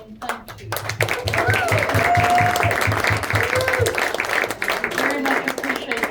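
Audience applauding veterans at a Veterans Day gathering at Baxter's, steady clapping throughout with some voices and a low rhythmic hum underneath.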